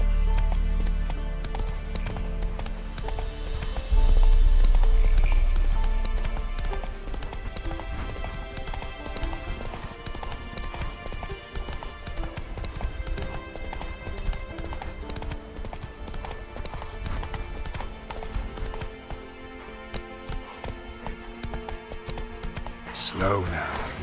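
Horse hooves clip-clop at a gallop in the video game The Witcher 3, a steady rhythmic beat under game music and ambience, with a brief whinny and a voice speaking near the end.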